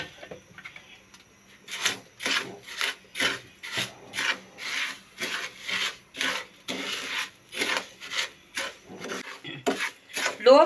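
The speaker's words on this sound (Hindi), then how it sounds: "मसलसल इसे चलाते रहेंगे ताकि ये एक जगह से चीनी जम ना जाए नीचे।" Sugar stirred in a pan over low flame for caramel, a utensil scraping the pan bottom in a steady rhythm of about a dozen close, rasping strokes with no talking.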